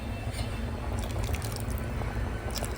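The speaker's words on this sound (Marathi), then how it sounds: "चिंचाचं पाणी जरासं टाकूया" Tamarind water is poured into a vegetable curry sweetened with jaggery, a steady close, wet trickling pour running throughout without talk.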